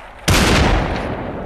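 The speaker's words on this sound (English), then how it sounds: "Oh, they're shooting at somebody." Sudden loud burst of gunfire in the VR battle royale game Population: One, a sharp attack followed by a dense rattling volley that slowly fades.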